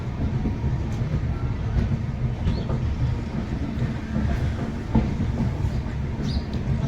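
The Darjeeling Mail rumbles steadily from on board, a loud, continuous low roar of wheels and carriage with faint periodic clatter and no voices.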